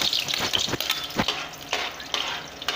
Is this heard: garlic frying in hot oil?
yes